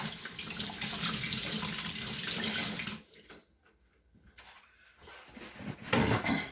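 Running tap water splashes steadily into a kitchen sink while fresh ginger is rinsed, loud and close at first, then dropping to quieter trickling and handling noises before surging again at the end.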